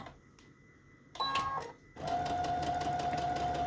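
A sewing machine stitches fabric and lace, starting with a brief whirring burst, a short pause, then a steady, loud motor hum with needle clatter running to the end.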